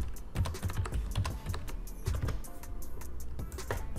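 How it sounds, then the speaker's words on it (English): Rapid, close computer keyboard typing as an IP address and subnet mask are entered during a VMware vCenter 8 install, with irregular bursts of sharp key clicks and no talking. "Let's type the IP address that we have assigned in DNS and the subnet mask."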